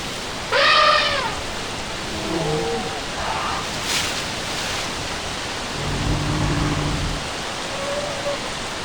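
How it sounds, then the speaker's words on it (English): Heavy rain pours steadily in a dense, even hiss, with faint bird calls and brief low rumbles over the downpour. "The rain is beginning to pour."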